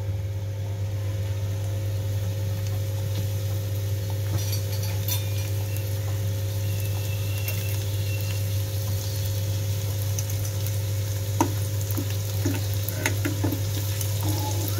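Egg bhurji mixture fries in hot oil while it is stirred, giving a steady, even sizzle over a constant low hum, with light scraping clicks from the stirring scattered throughout.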